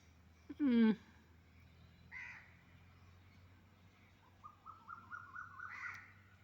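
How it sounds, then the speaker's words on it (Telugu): Birds call near green fields in the early morning, in open, quiet surroundings: a loud nearby squawk, then a brief call and a series of rising, repeated notes, over a faint low hum. "ఉదయాన్నే పచ్చటి పొలాల దగ్గర ఈ పక్షులు శబ్దాలు వింటుంటే చాలా బాగున్నాయి"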